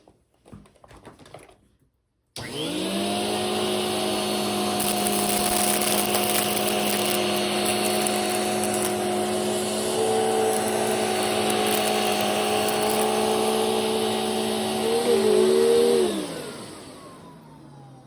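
A Filter Queen Empress vacuum cleaner starts abruptly and runs on its lowest setting over thick pile carpet, giving a loud, steady, whining motor drone with a shift in pitch partway through, before it winds down and fades out.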